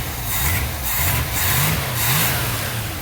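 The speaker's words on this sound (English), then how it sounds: "by simply moving the gas can here, it fired right up and it's idling a little low" A 1985 Dodge Ramcharger with a 360 V8 and Flowmaster exhausts idles low and a little unevenly after a fuel-starved start and a suspected vacuum leak, giving a loud, close, steady rumble with slow swells.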